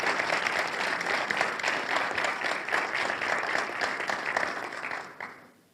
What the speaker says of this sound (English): please give a big round of applause to all of the participants and the faculty